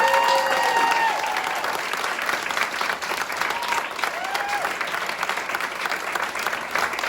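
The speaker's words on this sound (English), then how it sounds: "Could we give them all another round of applause?" Sustained audience applause for the performers of an upper school production of Antony and Cleopatra. The clapping stays dense and steady throughout, with faint tonal squeaks near the start.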